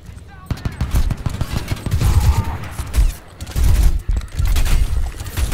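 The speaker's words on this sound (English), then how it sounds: "Where am I getting shot from?" Rapid automatic gunfire and scattered shots from combat in the video game Crysis 2, loud and close in dense bursts, with someone speaking briefly in between.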